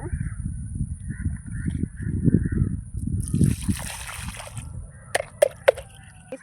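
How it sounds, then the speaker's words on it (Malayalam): Water is scooped and sloshed by hand while gathering it for making clay from mud, with a low, muffled handling rumble and a few sharp splashy knocks near the end. "നമുക്ക് ഇവിടെ നിന്ന് തന്നെ വെള്ളം എടുക്കാവേ"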